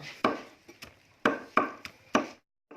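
Garlic and herbs are chopped with a knife for pig blood pudding, a series of sharp irregular knocks on a board, close and fairly loud, with pauses between strokes.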